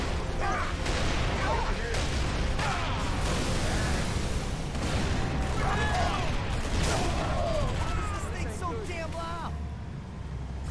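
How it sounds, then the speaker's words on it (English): A tank firing in Halo ODST: loud, continuous rumbling blasts and booms filling the whole stretch, with a voice talking over them. "Soldier, did you just ask why a tank is so damn loud?"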